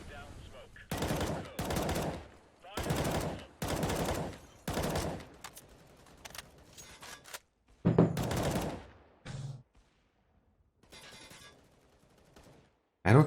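Gunfire on the Cache map of a competitive shooter game, with several rapid automatic bursts in quick succession followed by sparser single shots and short volleys, close and sharp, with a voice talking quietly in places.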